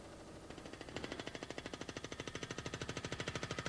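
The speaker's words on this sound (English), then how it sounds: "The drills we see here are not really instruments of demolition." Drills rattle in a fast, even percussive rhythm during renovation of a woollen mill factory, starting after a brief lower hum and continuing steadily, moderately loud.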